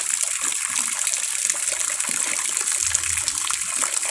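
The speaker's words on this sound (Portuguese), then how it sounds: "Isso aqui já é a água do poço." Water from a well pump gushes in a steady, loud, continuous rush, close by, with no talking over it.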